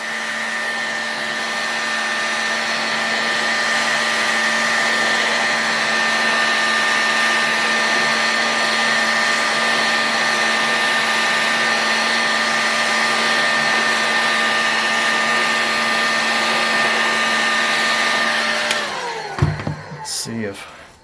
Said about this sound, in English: And then I'll heat this, try to heat this up without hitting that bearing.